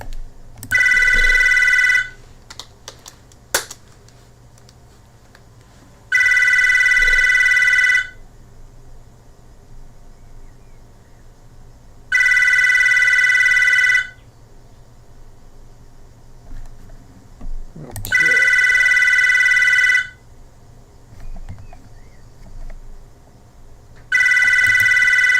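A telephone rings in four long bursts of electronic trilling, evenly spaced with quiet gaps in between, loud and close over a faint background hum.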